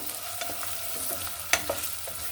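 Dried fish (shutki) and vegetables fry in a pan with a steady, close sizzle, punctuated by a few stirring clicks and scrapes.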